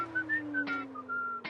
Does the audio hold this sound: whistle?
yes